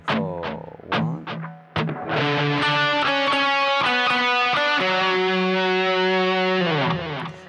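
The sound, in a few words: electric guitar harmony part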